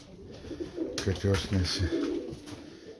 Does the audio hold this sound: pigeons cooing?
yes